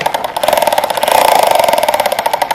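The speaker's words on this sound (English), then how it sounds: "It's just a little monster truck, and he like makes sounds." A small toy monster truck's engine whirs and revs in a rapid buzzing pulse, rising slightly in the middle, close and fairly loud with no talking.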